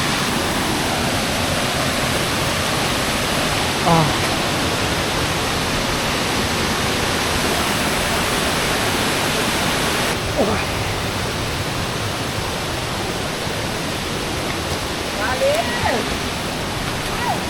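Waterfall beside a narrow, steep forest trail near a drop-off: a steady, dense rush of falling water fills the scene, loud and unbroken, with faint brief sounds on top.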